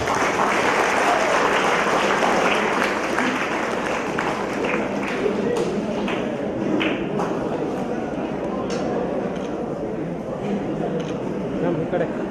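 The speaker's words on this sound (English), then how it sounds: "give her a big round of applause" A graduation day ceremony audience applauds steadily and loudly, a dense sustained clapping with a crowd murmur underneath lasting throughout.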